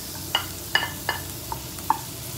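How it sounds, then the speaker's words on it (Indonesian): Chili fries in butter or margarine in a pan for salted-fish fried rice, with a soft steady sizzle broken by a handful of sharp utensil clinks as it is stirred. "Sekarang kita masak nasi gorengnya."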